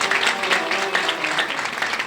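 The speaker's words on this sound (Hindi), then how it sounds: "जोरदार तालियों के साथ पुनः स्वागत महाराज" Loud, sustained applause from a seated audience at a Ram Katha religious discourse gathering, dense steady clapping filling the hall as a revered guru is welcomed back.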